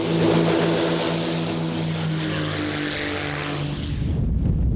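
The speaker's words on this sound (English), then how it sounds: "They go up in an aeroplane." A propeller airplane engine drones steadily and loudly throughout, with a strong low rhythmic hum.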